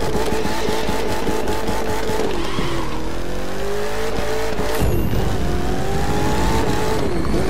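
Ford Shelby GT500 in The Crew 2 roaring hard, engine pitch climbing and dropping through gear changes, with tire squeal and a shift mid-run, loud and continuous throughout.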